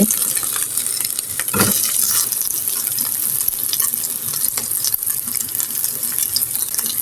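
Oil crackles and sizzles steadily as eggs fry in a wok, with occasional scraping and stirring noises as they are turned over the constant hiss.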